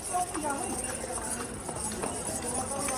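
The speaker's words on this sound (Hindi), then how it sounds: "तो 3 घोड़े लेके अब हम लोग चल रहे हैं।" Hooves clip-clop at a steady walking pace during a horse ride on the trail to Shivkhori, near and moderately loud, with people talking over them.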